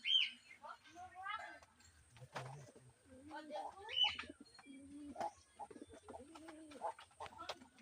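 Several Lotan pigeons coo and gurgle nearby at a pigeon farm in repeated low phrases, with faint rustling and a bit of background noise.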